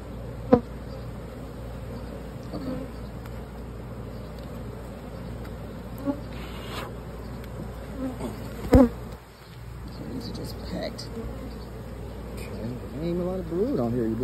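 Agitated honeybees drone in a continuous, dense buzz from an opened hive's brood chamber, heard up close with occasional clicks and knocks, and a beekeeper talks over it.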